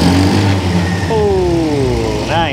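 A 2023 WMOTO Gemma 125cc scooter engine revs up from idle with a short throttle pull. The rising, whining pitch climbs and then eases back near the end. It is heard up close, with no talk.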